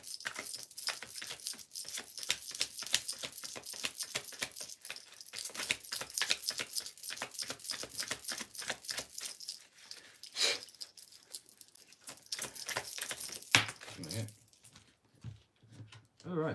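Tarot cards are shuffled by hand, a rapid, dense run of papery flicks and riffles that carries on steadily for about thirteen seconds, then thins out into a few quieter, scattered card sounds.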